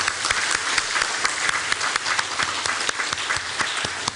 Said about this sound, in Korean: 우리 격려의 박수로 격려해 주시기를 바랍니다